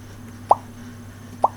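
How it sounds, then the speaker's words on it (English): Two short hollow plop-like tones sound about a second apart over faint steady hum, the feedback from pressing buttons on a late 2008 17-inch MacBook Pro laptop, with no talking. "that's just me hitting the MacBook Pro buttons"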